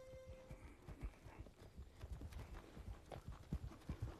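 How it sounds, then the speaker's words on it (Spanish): Shod horses clip-clopping over stony ground on a mountain trail in rural Galicia, a steady run of uneven hoof strikes at moderate distance with no talk. "Escucho las herraduras sobre las piedras"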